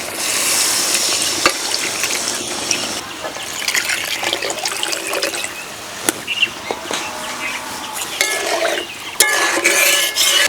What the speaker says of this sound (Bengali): উনুনের জাল কমিয়ে দিয়ে একটুখানি নাড়াচাড়া করে নিলাম।